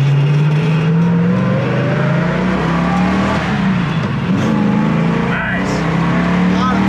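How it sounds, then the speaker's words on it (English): A 1966 Ford Mustang Fastback's V8 engine rumbles loudly and steadily in third gear while driving down the road, a close, continuous throaty drone with slight rises in pitch and road noise. "As it goes down the road, we're in third gear right now"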